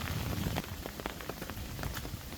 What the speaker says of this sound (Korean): 내려갈 때는 빗소리에 더 집중해서 내려가 보려고 합니다